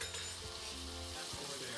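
Steak for a sandwich sizzles in a pan, a continuous close frying hiss holding steady for a couple of seconds with no talk.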